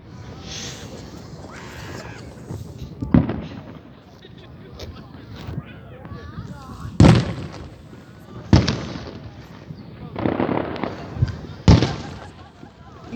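Fireworks burst in a long show, giving sharp booming bangs at irregular intervals, some loud and close and others more distant, over crowd noise while people talk and cheer.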